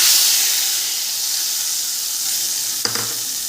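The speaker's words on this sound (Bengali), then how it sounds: "তেল ভালো করে গরম হয়ে গেছে, দিয়ে দেব কালো জিরে আর গুলে রাখা মশলাটা" Black cumin and a soaked spice paste sizzling in hot oil, a loud continuous hiss that eases slightly, then a short clatter of stirring near the end.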